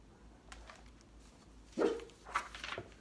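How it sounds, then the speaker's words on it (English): A dog gives a few short barks and yips, moderately near, after a quiet stretch, the bursts coming quickly one after another near the end. "It's Hoka the Wonder Dog"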